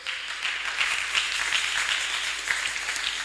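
A church congregation claps together in a steady ovation during a Sunday service, bright and even, heard at a slight distance for the whole stretch.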